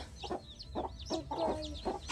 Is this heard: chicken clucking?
yes